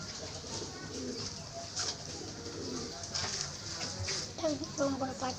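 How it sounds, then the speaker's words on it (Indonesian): Pigeons coo softly in a backyard coop, low murmuring calls repeating through steady background noise, with a person talking nearby. "Burung merpatinya lihat aja guys."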